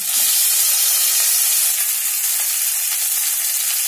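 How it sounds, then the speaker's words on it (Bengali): Chopped tomato hits hot oil in a pan while cooking a vegetarian aloo dum, giving a loud, continuous, close sizzle with a steady frying hiss and no voices. "এবার আমি এই টমেটো কুচিটা দিয়ে দেবো।"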